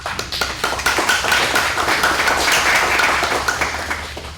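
An audience at a community meeting gives a round of applause, loud, dense clapping from many hands that holds steady for several seconds before easing slightly at the end.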